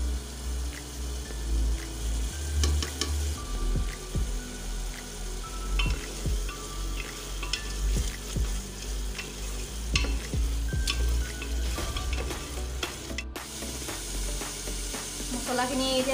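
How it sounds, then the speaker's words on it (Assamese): Spices fry in a pan for a patal paneer dish, a continuous sizzle punctuated by repeated clinks and scrapes of stirring, close and fairly loud with no talk. "মছলাখিনি এতিয়া ভালদৰে ভাজ খাইছে।"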